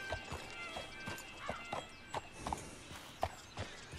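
Horse hooves clip-clopping steadily in the Wild West setting of Red Dead Online, a regular trotting rhythm of distinct hoof strikes, fairly close and clear with no talk.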